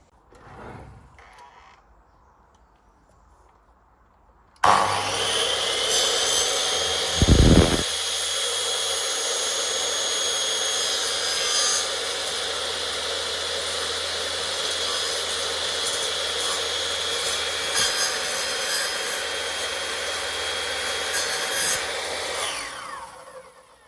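A power saw cuts through plastic fascia boards. After a few quiet seconds the loud, harsh buzz of the blade starts abruptly and continues steadily for almost twenty seconds, then stops.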